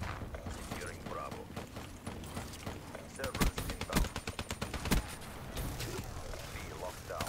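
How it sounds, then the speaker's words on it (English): Black Ops 3 sentry gun firing, a rapid burst of sharp mechanical shots in the middle amid a busy game mix, with a muffled voice underneath. "Sentry gun, do some work."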